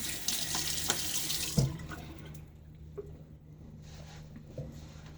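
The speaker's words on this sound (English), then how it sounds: "Water." Water runs from a tap during a wet shave at the sink, a steady hissing stream that is strong at first and then cuts off, followed by a few quiet drips and clinks.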